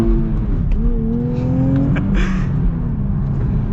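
A 2023 Nissan Z engine hums, then climbs in pitch as it pulls away and accelerates in the Colorado Rockies, loud and close throughout.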